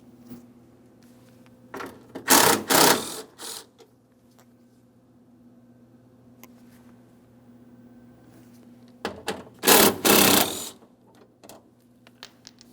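Mounting bolts on a 2003-2008 Toyota Matrix front window regulator being removed with a ratchet, heard as two loud bursts of fast mechanical clicking several seconds apart in an otherwise quiet space.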